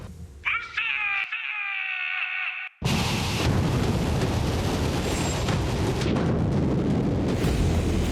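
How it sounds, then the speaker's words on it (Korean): A North Korean test missile launch: a tonal whining rise gives way to a sudden loud, sustained broadband roar of rocket exhaust that fills the rest of the clip without letting up. "시험 발사 준비 끝."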